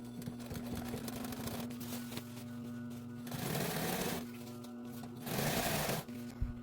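A sewing machine stitches in bursts, replacing a zipper on a puffer coat, a steady mechanical hum with louder surges of rapid stitching and brief pauses between runs.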